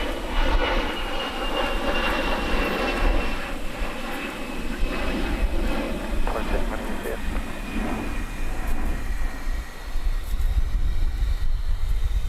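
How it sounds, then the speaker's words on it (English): A plane taxis at DFW Airport at night with a steady, loud engine roar and a high whine throughout, and faint background sounds mixed in. "So I think that is the plane that came in from Fort Wayne."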